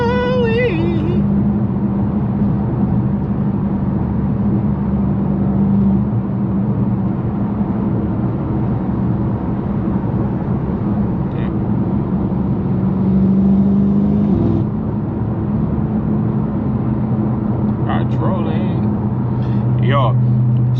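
A BMW F90 M5 drives along with a steady muffled engine and road hum heard from inside the cabin, rising briefly in a couple of spots, while people talk over it.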